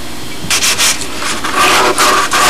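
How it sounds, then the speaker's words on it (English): Sandpaper rubbing steadily along the canopy edge of a model Spitfire, close and loud, in short repeated back-and-forth strokes with no talk. "You can just get a little bit of sanding on the edge."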